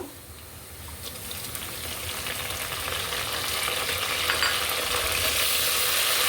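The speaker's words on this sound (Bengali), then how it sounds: "পেঁয়াজ কুচি ব্রাউন কালার হওয়া পর্যন্ত অপেক্ষা করব পর্যায়ে আমি গরম মশলা দিয়ে দিব" Chopped onions fry in a pan as whole garam masala goes in, with cardamom, cinnamon, bay leaf and peppercorns mentioned; a close, steady hissing sizzle that grows slightly louder over time, with no talking.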